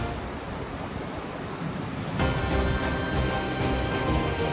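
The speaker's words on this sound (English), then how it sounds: "flowing water making noise" Steady flowing water at a peaceful remote campsite, a continuous broad rushing wash that grows slightly louder partway through, with no talking.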